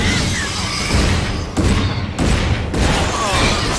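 Grenade explosions and gunfire in the Mars landing mission of the video game Iron Brigade: dense, loud bursts of booms and crashes with a few sharp gaps, continuous battle noise filling the whole stretch.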